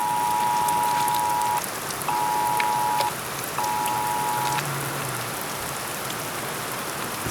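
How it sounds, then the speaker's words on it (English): Heavy rain pours steadily at Havasu Landing during a flash-flood warning, a dense continuous hiss of drops striking surfaces throughout, with three long electronic alert tones sounding over it. "It's been raining off and on all day today, but it's gotten heavy."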